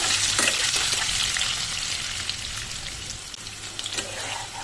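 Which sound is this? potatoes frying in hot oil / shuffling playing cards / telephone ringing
potatoes frying in hot oil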